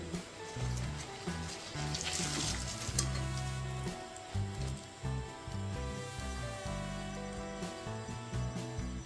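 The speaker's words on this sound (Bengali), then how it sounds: "তো আমাদের চিকেন পপকর্ন কিন্তু ভাজা হয়ে এসেছে।" Chicken popcorn bubbles and fries in hot oil, a steady watery sizzle with irregular low thumps and clatter of cooking nearby.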